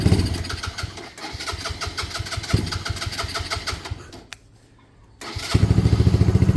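An old engine running on choke, a close, loud and uneven mid-pitched chugging that dips almost to silence near the end and then picks back up with a steady pulsing beat.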